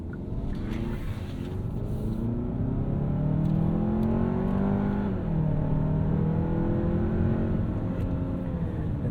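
A 2024 Hyundai Santa Fe's 2.5-liter engine pulling hard in sport mode, a steady interior drone with engine tone climbing, dipping at a shift and rising again, no talk.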